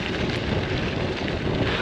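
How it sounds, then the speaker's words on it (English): Strong wind buffets the microphone as a cyclist rides alone across the hot Florida Everglades, a steady, loud broadband roar that fills the short stretch without letup and with no talk. "It's very hot and it's very windy."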